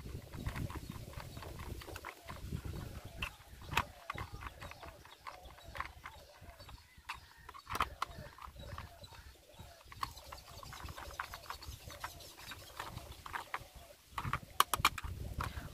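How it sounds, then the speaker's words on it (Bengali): Screws on a toy army jeep are tightened one after another, giving a steady run of small ratcheting clicks and ticks at close range, fairly faint, with no talk. "দেন একটা একটা করে টাইট করে ফেলবো"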